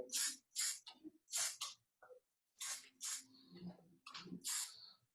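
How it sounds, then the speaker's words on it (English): Several short bursts of hairspray hiss in quick succession onto hair, close and crisp, separated by brief pauses. "you can even lift that hair up and spray it in"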